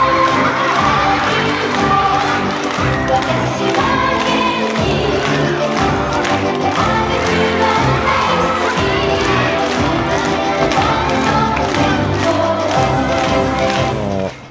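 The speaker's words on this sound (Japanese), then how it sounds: "見ていた生徒から拍手や歓声が上がりました" Kindergarten and elementary schoolchildren applauding and cheering at a street performance, a loud continuous crowd of clapping and excited shouts throughout, with music faintly underneath.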